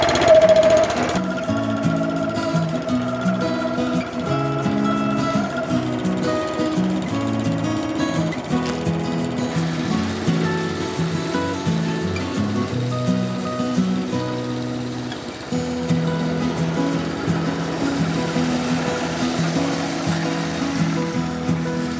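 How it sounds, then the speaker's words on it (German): A lawn mower cuts grass in a garden at midday, its engine running with a constant buzzing drone, fairly loud and close and continuing without a break. "Alle mähen sie hier Mittag."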